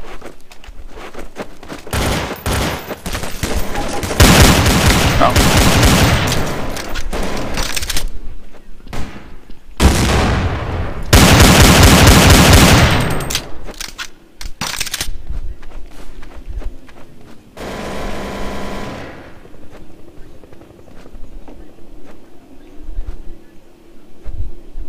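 Desert Eagle pistols fire in Counter-Strike: Source as bursts of loud, dense gunfire with short quieter gaps. Faint thuds and movement sounds fill the pauses.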